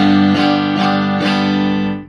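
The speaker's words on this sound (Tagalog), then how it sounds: "Bridge pickup, ito po yung tunog" Electric guitar played through the bridge pickup, loud sustained chords with a bright, harmonically rich tone, struck three times in a steady rhythm and ringing out before a quick fade, with no talking.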